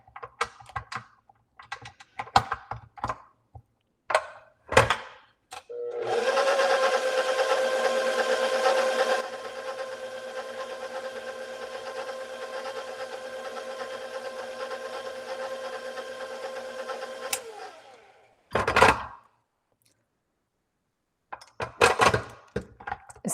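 A stand mixer with a paddle attachment runs steadily for about twelve seconds, mixing tiramisu cream with a loud, even motor whir that drops a little partway through. Knocks and handling clatter come before and after it, with no talk.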